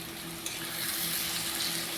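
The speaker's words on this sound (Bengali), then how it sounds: "একটু মশলাটা ভাজা ভাজা করে নিই।" Spices fry in a hot pan, giving a steady, faint, even sizzle throughout, with a light clink near the start and no speech over it.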